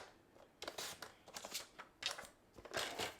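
Cardstock being cut for a handmade card, a few short rasping cutting strokes in quick bursts, close and fairly quiet with no talking.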